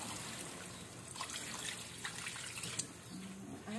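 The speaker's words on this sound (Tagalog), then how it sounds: "Lagyan natin tubig, guys." Water is poured into a cooking pot for chicken sinigang, a soft, quiet, continuous trickling splash with no talking.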